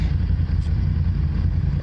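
Motorcycle engines from a group of five bikes, including a Honda CB650R, idling and rumbling loudly and steadily up close, with no talk.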